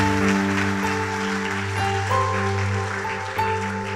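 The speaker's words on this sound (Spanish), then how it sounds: "Vamos a darle un fuerte aplauso al Señor." Applause fills a church service, a soft broadband patter running beneath sustained keyboard or organ chords that hold steady and shift pitch a couple of times.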